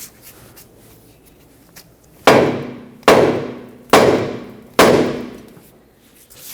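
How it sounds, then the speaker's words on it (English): Four heavy metallic hammer blows strike the steering knuckle of a 2006-2010 Hyundai Sonata at a steady pace, each strike sharp and loud with a short ringing decay. "Use a hammer right on the end of the knuckle right here."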